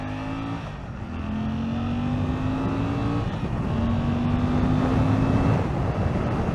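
Suzuki GSX-8R motorcycle engine pulling at half throttle on a twisty road, a steady rising drone with a brief dip for a gear change midway, heard up close under wind rush.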